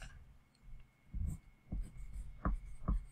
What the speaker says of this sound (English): we're going to write our name